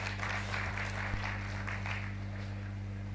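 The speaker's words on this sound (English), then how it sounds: "Let's give a big round of applause to Chris Bahizi." An audience applauds at a celebration of the 10th anniversary of Chapter Four Uganda. The clapping is steady and moderately distant, with a faint low hum underneath.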